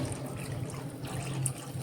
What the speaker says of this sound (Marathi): हे मी या ठिकाणी पाणी घालतोय